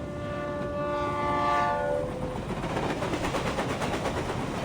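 Train in the video game Reverse: 1999 sounding a long, sustained horn that fades out, followed by a steady rhythmic rumble and clatter of cars rolling along the rails.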